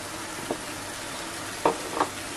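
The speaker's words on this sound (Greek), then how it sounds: "να ακουστεί αυτός ο ήχος του τσιγαρίσματος" Food fries in a pan with a steady hiss and sizzle, broken by a few brief clacks of stirring or handling, with no talking.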